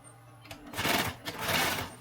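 A sewing machine stitching fabric for a simple homemade backpack, in two quick bursts of rapid mechanical chatter that start after a short pause, close and moderately loud, with no talking.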